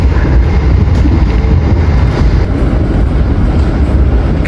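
Argo Mendoan passenger train running on the rails, a steady loud low rumble of wheels and carriage noise throughout with no voices.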